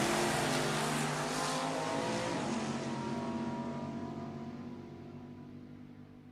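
Two drag racing cars, a naturally aspirated 572 Chevy and a supercharged 410 cubic inch Chevy, roar loudly at a nostalgia drag meet, their thunder fading steadily as they pull away into the distance.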